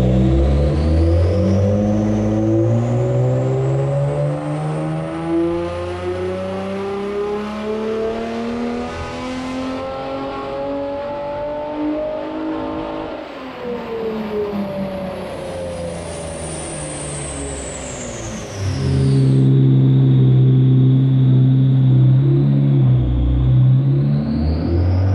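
Nissan GT-R R35 engine revving hard on a dyno, loud rising and falling harmonic sweeps over a steady rumble, with a whining pitch climbing, dropping, then a heavy roar returning near the end; no talk.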